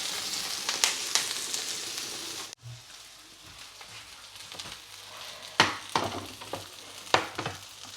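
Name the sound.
fish sizzling in a pan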